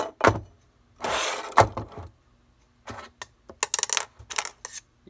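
A Lionel toy train locomotive is picked up and turned over by hand, giving scattered close metallic clicks, knocks and clatters in short bursts, with quiet pauses between them and no talking.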